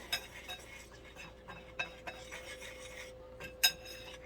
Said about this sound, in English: get your utensil and mix this thoroughly so everything distributes good